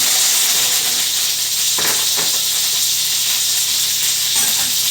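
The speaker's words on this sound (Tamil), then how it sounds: "பொரிஞ்சோடனே இந்த கருவேப்பிலை போட்டுங்க" Curry leaves hitting hot oil with already-popped mustard seeds while tempering an arai keerai kuzhambu, making a loud, continuous hiss and sizzle with a few faint stirring knocks close by.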